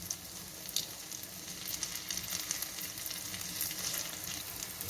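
Egg kuzhi paniyaram fry in a paniyaram pan as they are turned with a stick, giving a steady close sizzle with a few faint taps and scrapes, no voices.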